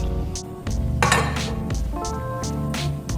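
Eggs stirred in a non-stick frying pan, the utensil clinking and scraping against the pan in a quick, busy run of close, moderately loud metallic knocks over a tonal background hum.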